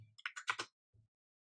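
Quick bursts of clicks from a computer keyboard, about half a dozen keystrokes in rapid succession, then a single soft tap, close and quiet with silence between.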